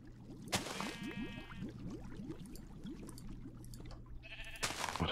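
Two penned sheep in a Minecraft modpack game bleat repeatedly and fairly close, with short quavering calls in a steady series over a low ambient hum.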